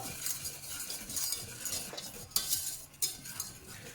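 A spoon stirs sugar, vanilla sugar and starch together in a bowl, with a steady close scraping and gritty swishing and a few sharper clinks against the bowl's side.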